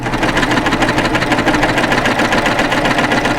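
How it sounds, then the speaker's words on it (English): A serger sewing machine stitching a 3-needle stitch and chaining off, giving a steady, fast, close mechanical whirring hum with even rapid rhythmic clatter throughout and no talking. "You'll notice as I stitch back, the machine keeps chaining."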